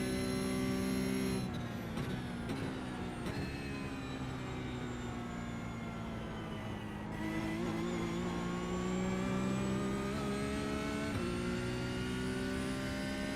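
A Porsche Cup race car in rFactor 2 drones with a steady, high engine whine that shifts pitch through several gear changes and revs, continuous and fairly faint with no talk.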